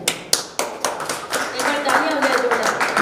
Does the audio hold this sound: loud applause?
yes